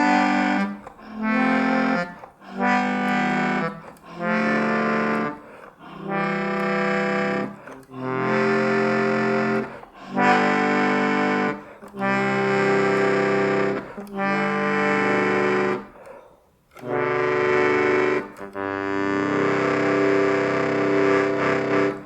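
A Suzuki Melodion Bass 24 plays a series of reedy chords from treble down to bass, each held for about a second with short gaps between them, close and loud, the last chord sustained longest.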